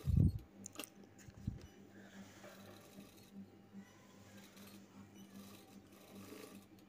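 Sewing machine stitching a piping strip onto a blouse, a steady, continuous mechanical whir at moderate level after a brief thump at the start, running alone without talk.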